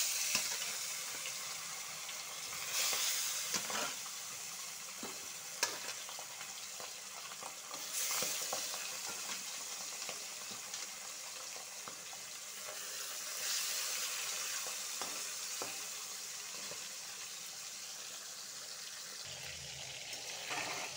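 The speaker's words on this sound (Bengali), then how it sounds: "মাছটা ভেজে নিব।" Pabda fish fry in hot oil in a heated pan, giving a steady loud sizzle for the whole stretch with a few sharp spatter and utensil clicks, and no talk over it.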